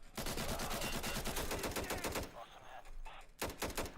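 Rapid bursts of automatic gunfire from bots in the video game Insurgency, loud and dense for over two seconds, then a brief lull and another sharp burst of shots near the end.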